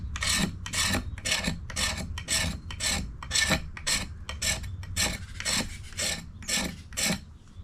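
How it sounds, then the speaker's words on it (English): A knife spine scrapes a ferro rod to make shavings, giving about fourteen quick, even rasping strokes in a steady rhythm, close and fairly loud with no talking. "So let's get some shavings."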